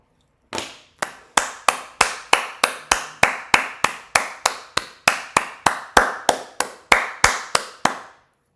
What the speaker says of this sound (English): First smoking applause I did in a long time